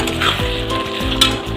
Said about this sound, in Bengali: রাখা মাশরুম আলুগুলো দিয়ে দেবো, দিয়ে ভালো করে একটু কষিয়ে নেব।